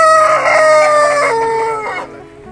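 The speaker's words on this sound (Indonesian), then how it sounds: "ini ayamnya dipegang aja mau kokok ya" An Indio Gigante rooster, held in the hand, gives one long, loud, close crow that rises and then fades out on its own.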